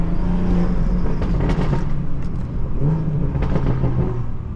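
A BMW M340i heard from inside the cabin while driving, a steady low engine and road rumble that holds throughout at a strong level with no talk.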